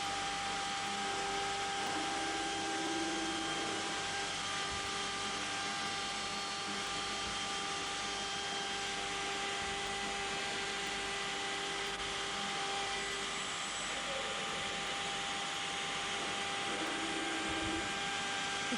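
A 1986 CNC machine cutter head works through material, a steady, faint mechanical whir and hum with a continuous tone and no clear breaks, heard alone.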